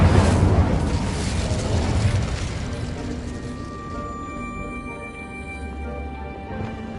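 Spell effects in Hogwarts Legacy, a loud booming blast with a deep rumble that fades into a sustained magical hum and ringing tones.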